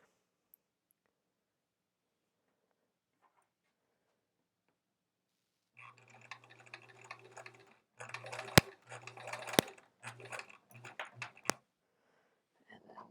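A sewing machine stitches quilt pieces along the edge in a few short bursts of rapid mechanical whirring. The runs stop and start over several seconds and are heard close up after a quiet stretch, with no voices.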